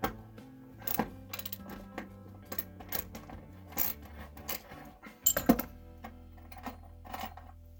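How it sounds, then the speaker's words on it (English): A socket ratchet with an extension loosens a rear seat bolt in a 1979 Trans Am, giving a series of close, crisp metallic clicks and knocks in short bursts with brief pauses. "Let's take my socket with an extension in my ratchet and stick it right on there and take this out."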